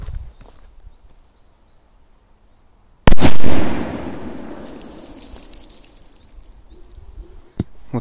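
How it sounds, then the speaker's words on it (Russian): A single sharp, loud firecracker blast inside a can after a quiet stretch, followed by a long fading rumble and scattered debris pattering down. "Отличный взрыв."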